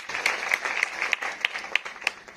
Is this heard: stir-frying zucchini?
no